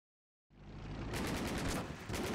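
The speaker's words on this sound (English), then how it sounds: "I think that's an anti-tank gun," Anti-tank gun firing in the Order of Battle strategy game, a sudden loud blast breaking from silence into a sustained rumbling roar of repeated crackling gunfire that continues to the end.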